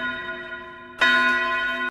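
A bell tolls in a Detective Conan movie scene, one sustained ringing tone followed by a louder, brighter strike about a second in that sounds close and resonant.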